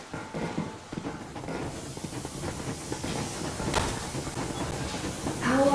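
Steam locomotive Yermak pulling away in Metro Exodus, a broad hissing rush of steam with rumbling rail clatter building gradually, brief metallic squeals near the end, and faint voices underneath.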